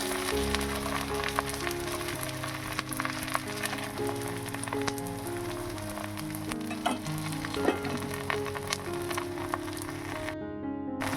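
Chopped onions frying in oil with spices such as black cumin for a mutton dish, a continuous close sizzle with scattered crackles and stirring clatter.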